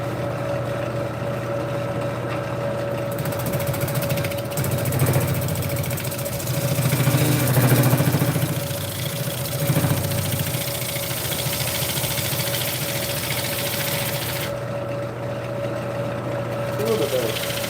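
A lathe spins a wooden workpiece being rounded out, its steady motor hum and low mechanical drone running throughout, swelling briefly as the tool cuts, with talk over the top.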